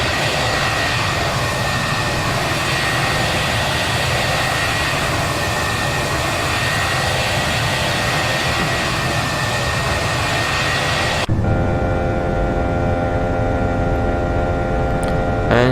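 Simulated Airbus A320 engines in Prepar3D, climbing after takeoff from Melbourne, a steady loud jet roar and hum that cuts abruptly to a quieter tonal cabin drone near the end.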